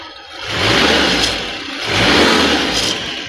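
A 1994 Daihatsu Zebra 1.3 engine, already warmed up, revs loudly and close by in two rising surges of throttle, with a steady rumble between them and no talk.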